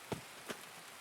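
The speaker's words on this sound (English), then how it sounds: "It's very rainy here on Tarkov today." Rain falls in the Escape from Tarkov video game, a faint, quiet wash broken by two brief, sharp drop-like taps early on, with no voices.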